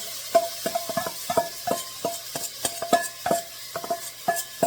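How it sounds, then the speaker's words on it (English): A steady sizzle of onions and garlic frying in a pan over medium heat for crawfish stew, with repeated scraping and clinking of a utensil stirring at an uneven rhythm, close up, no talk. "You can hear that already sizzling."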